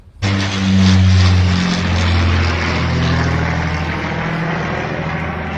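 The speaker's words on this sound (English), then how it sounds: "that was a WW2 Lancaster Bomber that's just flown over as part of the WW2 flight for the King's official birthday" A WW2 Lancaster bomber flies over for the King's official birthday. Its piston propeller engines make a loud, deep, droning roar that holds steady and slowly fades as it passes.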